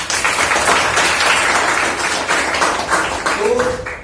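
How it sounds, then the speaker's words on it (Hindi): An audience at a group discussion session in Jabalpur claps loudly and continuously for both teams, a dense, close wash of applause that fades slightly at the end. "दोनों टीम के लिए जोरदार ताली"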